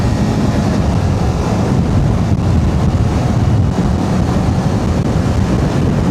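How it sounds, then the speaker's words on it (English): Steady, loud wind buffets the microphone while riding a motorcycle through traffic, a continuous low roar and rumble with no break and no voices. "it's pretty windy today"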